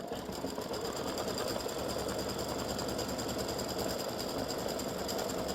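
An embroidery machine stitches a gnome's beard on a freestanding-lace Easter egg pendant, running in a loud, continuous, even mechanical whir throughout.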